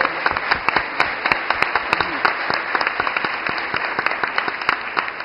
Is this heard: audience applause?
yes